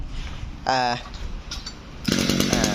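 A used Japanese brush cutter's small two-stroke engine gives a brief buzzing blip, then roars steadily and loudly up close, with someone talking around it.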